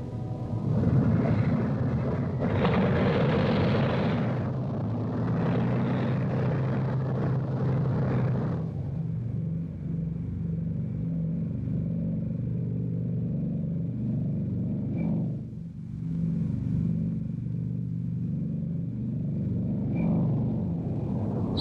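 Four-engine B-29 Superfortress bombers take off in 1945, a heavy, continuous engine roar that builds and stays loud throughout, with a steady droning hum and no talk.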